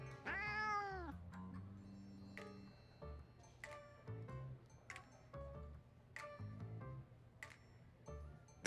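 A cat in the game Love and Deepspace lets out one drawn-out meow at the start, followed by soft ticking and chiming game sounds.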